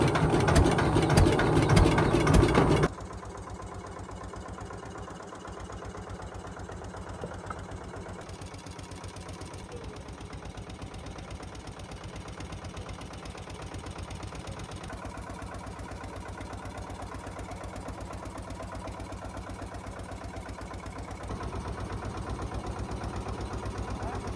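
A fishing boat engine on a Sundarban river, the Herobhanga, roars loudly for a few seconds, then settles into a steady low idling throb that runs on evenly, close by.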